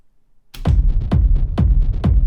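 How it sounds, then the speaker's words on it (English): Boomy 808 kick bass from an electronic acid track, four heavy punchy hits with long low sustained tails, starting after a brief silence and repeating at a steady loud pulse. "So let's start with kick bass."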